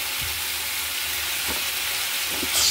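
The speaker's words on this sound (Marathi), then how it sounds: "आता चांगलं फ्राय करून घ्यायचं. थोडंसं फ्राय करून घेऊया आपण." Ground roasted masala frying in a pan for egg and potato curry, a steady loud sizzle throughout with a few soft stirring scrapes, no voices.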